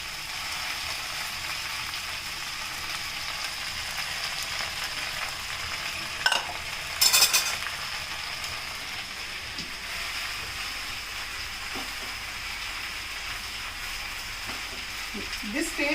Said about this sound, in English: This takes very little time because the leaves become wilted very fast in the hot oil.